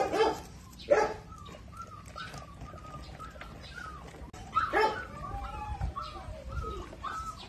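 Six-day-old Presa Canario puppies give repeated thin, high whimpers and squeaks, some rising and falling, in short bursts near the microphone against a low background rumble.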